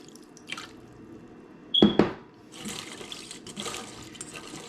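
Tap water running into a sink to rinse a container before filling it, with soft drips, a sharp clink of the container near the middle and a steady splashing flow toward the end, close and fairly quiet.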